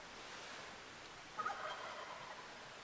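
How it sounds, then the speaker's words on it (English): A wild turkey gobbles far off in the mountains during a spring archery hunt, one faint rattling burst heard over a steady quiet background hiss. "There's a couple other birds farther off too that are gobbling."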